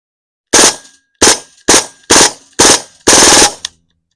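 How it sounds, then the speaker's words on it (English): Hatsan Blitz air rifle firing full-auto bursts, six sharp rapid bursts in quick succession, close and loud, with a short trailing shot at the end and silence between bursts. "let's give it a quick burst and full auto"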